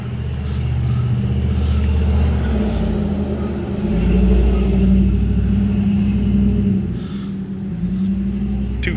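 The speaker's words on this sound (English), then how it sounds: "Two-stroke, three-cylinder engine." A 1996 Kawasaki 900 ZXI jetski with a two-stroke three-cylinder triple engine runs at a steady, loud, rumbling idle close by, with slight swells in level and no talking.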